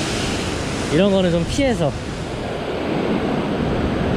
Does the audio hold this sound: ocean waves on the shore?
yes